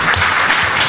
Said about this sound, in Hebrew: מגיע לך מחיאות כפיים